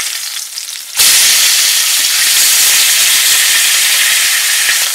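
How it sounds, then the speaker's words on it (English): Sea bass fillets pan-frying after being turned, with a loud, steady sizzle and hiss that bursts in after a second of quieter background and holds evenly to the end. "And fry for another 30 seconds."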